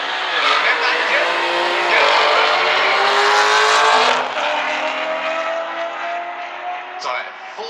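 A quick LS6-powered car drives hard with a loud, sustained engine roar and tire noise, rising in intensity then easing slightly, with a voice talking over it.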